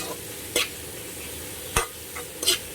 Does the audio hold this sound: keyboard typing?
no